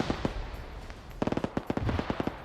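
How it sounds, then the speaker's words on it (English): Rapid bursts of video game gunfire with grenade blasts traded back and forth in a multiplayer battle, sharp close cracks firing in quick irregular clusters with no talk over them. "Grenades being traded back and forth."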